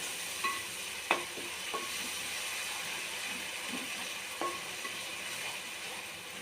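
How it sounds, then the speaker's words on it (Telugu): Crushed tomatoes frying in oil in a pan, giving a soft, steady sizzle throughout, with a few faint clicks and scrapes of a utensil now and then; fairly quiet and no one talks. "టమాటా వేసేద్దాము. ఇవన్నీ నూనెలో మంచిగా వేగాలి."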